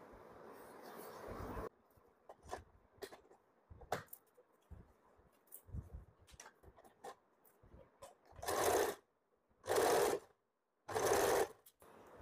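Sewing machine stitching fabric for an umbrella frock: short stop-start bursts of whirring, ending in three longer, loud runs of steady stitching, close by with handling noises between.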